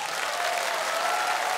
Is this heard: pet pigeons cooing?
no